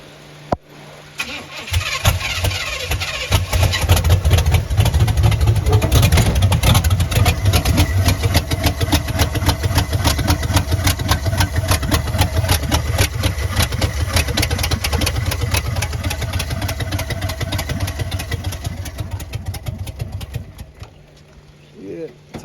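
A swapped-in 350 engine in a 1986 T-top Luxury Sport car cranks, catches and runs, a loud, close, rough and uneven rumble that holds for most of the stretch before dropping away near the end, with timing that is off.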